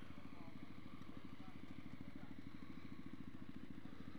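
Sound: Suzuki GSX-S motorcycle engine idling at bike night

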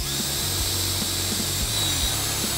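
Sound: power drill drilling a 5/32 hole to mount a fan control module

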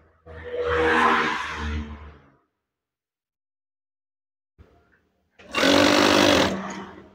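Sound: sewing machine stitching curtain fabric

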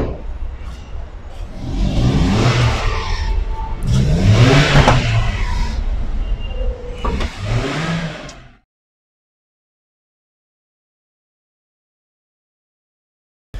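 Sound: Toyota Allion car engine revving

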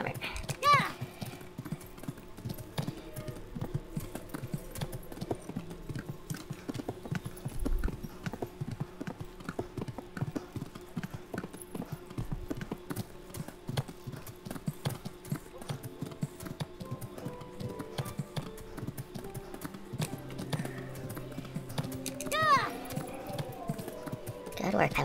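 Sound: horse hooves clip-clopping in video game Kingdom Come: Deliverance

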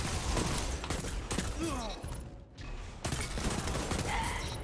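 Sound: hand cannon shooting in the video game Destiny 2

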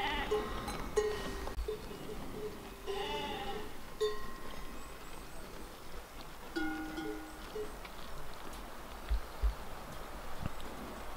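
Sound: young ram bleating

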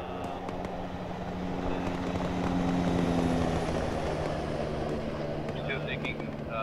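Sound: helicopter flaring to land in the video game ArmA 3

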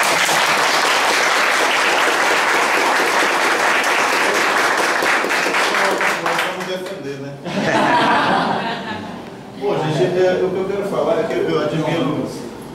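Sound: applause

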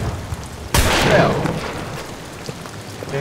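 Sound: explosion in the video game Amnesia: The Bunker

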